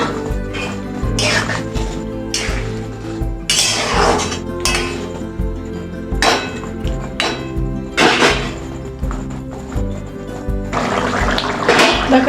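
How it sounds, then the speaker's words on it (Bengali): Pieces of potato and pointed gourd tipped into boiling gravy in a cooking pan, with repeated clinks and clatters of utensil against the pan over a bubbling, sizzling bed, loud and close. "এবার গ্রেভিটা ফুটলে পরে আমি আলু পটলটা দিয়ে দেবো"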